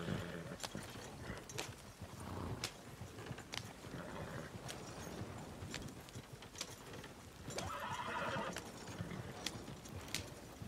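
A horse ridden in the video game Red Dead Redemption II trots with steady, close clip-clopping hooves and occasional whinnies, which continue throughout over a soft game backdrop.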